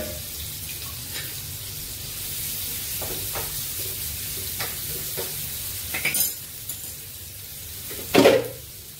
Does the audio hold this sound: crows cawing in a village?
no